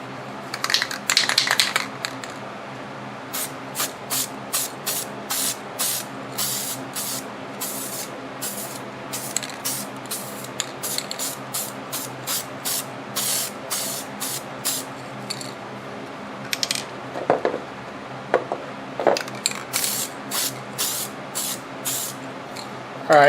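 Aerosol paint goes on in a light coat over a dash piece for a 2001 Lexus IS300, a series of short, close hissing bursts in an uneven rhythm, with brief pauses between passes.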